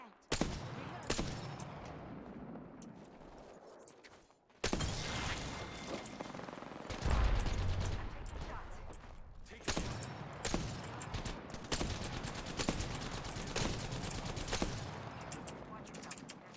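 Gunfire in the video game Apex Legends comes as repeated sharp shots and rapid bursts of automatic fire over about sixteen seconds, with a brief lull partway, dense and fairly loud, mixed with game sounds and a little voice.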